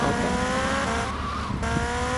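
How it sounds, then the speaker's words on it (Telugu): Vehicle engine roaring steadily in GTA Vice City while riding a motorbike, loud and continuous with tire squeal, no talk over it. "మనం బైక్ తీసుకుని వేరే లొకేషన్కి వెళ్తాం"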